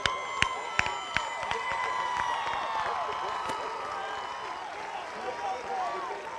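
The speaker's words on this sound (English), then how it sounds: "Listen to that crowd" Crowd noise at a high school football game, LaGrange versus Troup, swells into sustained cheering and scattered applause, with sharp whistles and claps standing out over a steady roar of many voices.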